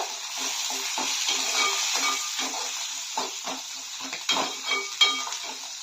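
Fenugreek seeds crackle and sizzle in hot oil while a utensil stirs and clinks against the pan in quick, uneven taps.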